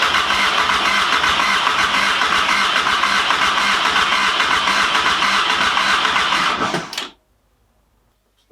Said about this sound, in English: let's give this a try and just see if it'll start for a second or two.